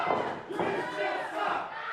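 A wrestling crowd roars and chants loudly and continuously, a dense wall of shouting voices that swells and dips over two seconds.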